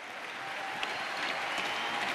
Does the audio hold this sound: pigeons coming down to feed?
no